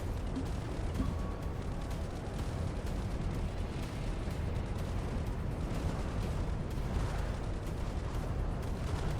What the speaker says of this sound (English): Looks like we're firing back those coastal artillery units.